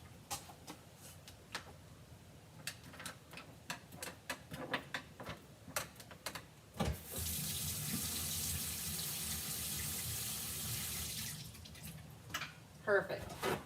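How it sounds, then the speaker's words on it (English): Tap water runs steadily into a sink for several seconds while something is rinsed, with scattered clicks and handling noises before it starts and after it stops. "I'm just going to rinse it really quick."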